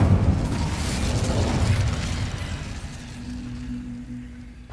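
Incendio fire spell going off in Hogwarts Legacy, a loud whooshing burst of flame that rumbles low and fades away over about four seconds.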